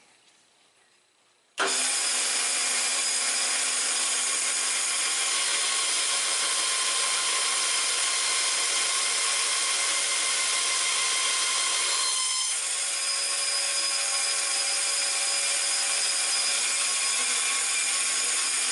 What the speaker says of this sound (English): I'm just going to use the saw here and cut most of this off so I don't have to worry with it on the grinder.